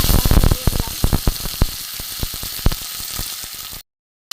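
Chopped garlic, onion and tomato frying in a pan, giving a loud close sizzle with sharp crackles and pops that thin out before the sound cuts off abruptly.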